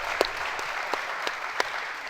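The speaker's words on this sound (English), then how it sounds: "Thanks for the applause" Brief, faint applause from a comedy show audience, a thin patter of claps with a few sharper individual hand claps standing out.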